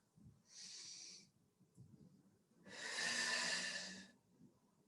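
Two slow, airy breaths during a qigong exercise, a shorter one and then a longer, stronger one, close and soft with quiet pauses between them.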